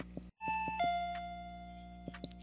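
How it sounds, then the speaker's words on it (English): A doorbell chimes in the Paranoiac horror video game, a clear electronic ding-dong with sustained tones ringing out alone, followed by a few soft clicks. "Doorbell!"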